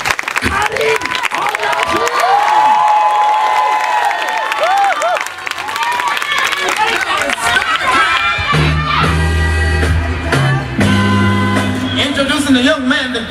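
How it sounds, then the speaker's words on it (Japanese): An audience at a Tokyo old-school dance showcase applauds and cheers loudly to welcome two dancers, a sustained wall of clapping and shouts with whistles and yells, and funk music coming in midway. "皆さん一番でかい拍手と歓声でこの二人を迎えてください。"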